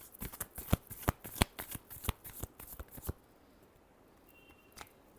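A deck of tarot cards is shuffled by hand: a quick run of crisp riffling snaps and slaps for about three seconds, then near silence with one last soft tap.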